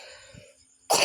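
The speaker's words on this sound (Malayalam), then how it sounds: "എനിക്ക് ചെറിയ ചുമയുണ്ട് കേട്ടോ." A single short, loud cough bursts out near the end after quiet background hum.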